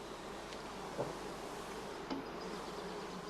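Honey bees buzzing at a traditional woven skep hive while being fed sugar solution, a dense continuous hum of many insects with a few nearer bees briefly droning past, no voices.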